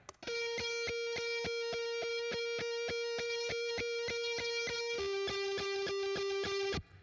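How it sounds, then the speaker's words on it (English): Electric guitar run through a drive pedal into an amp in Logic Pro X gives a fast, evenly picked pattern of crunchy overdriven notes that shifts down a step partway through, loud and alone, then stops abruptly. "And here it is with drive going into the amp."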